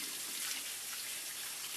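Water runs steadily from a kitchen tap for a brief rinse, a close, even splashing flow with no talking over it.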